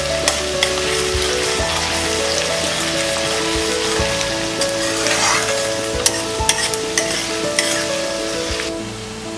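Onions frying in a pan for kanda poha, a continuous close crackling sizzle with occasional sharp spatula knocks and stirring scrapes throughout.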